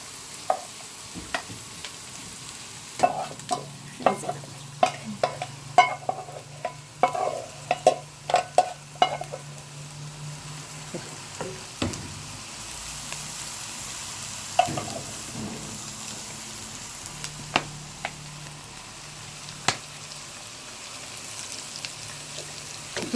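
Food frying in oil in a pan, cooked as an evening snack in a rural Iranian mountain hut, with a steady low sizzle under clusters of sharp spoon clicks and scrapes, busiest early on and then sparser. Nobody speaks.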